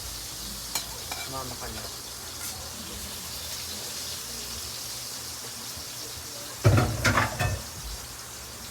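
Leftover frying oil heating in a pan for sautéing, giving a steady faint sizzle and crackle under brief talk, with a louder burst of sizzling and clatter near the end.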